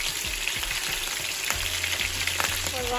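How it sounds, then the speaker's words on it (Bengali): Hilsa fish frying in a pan of hot oil, a dense, steady sizzle running throughout with a few soft clicks and knocks of utensils against the pan. "আর এখানের মধ্যে ফিশগুলাও দিলাইলাম। সবগুলাও পুরো ফ্রাই করে লইলাম।"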